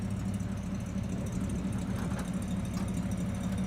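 A 1931 Buick 90 Series Roadster's engine idles steadily, a constant low rumble with a faint knock, close by with no talk over it.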